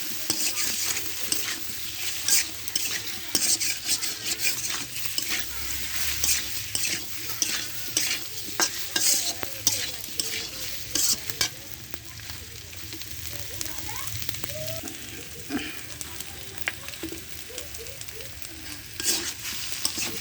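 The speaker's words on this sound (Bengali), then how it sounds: "এবার এইভাবে ভালোভাবে কষিয়ে নেব।" Taro root sautéed with turmeric powder in a pan, a steady low sizzle under repeated scraping and stirring scuffs from a spoon, close and moderately quiet throughout.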